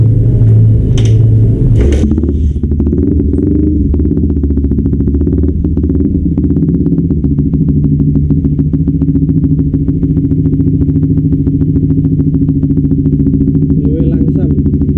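A bored-up Honda CB150R motorcycle engine runs steadily at idle, loud and close, with a brief rev and clatter at the start and a mechanical ticking throughout.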